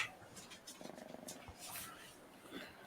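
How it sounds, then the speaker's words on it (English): A house cat purrs faintly and close, a soft rhythmic rumble beneath quiet room noise. Voices murmur lightly in the background. "I hear cat purring."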